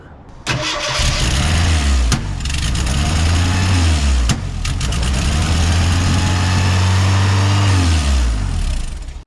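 A 1984 Ford Mustang SVO turbo engine cranks, catches and runs at a loud, uneven idle with a couple of sharp clicks, then the revs rise and fall before it cuts off, close by and with no talking.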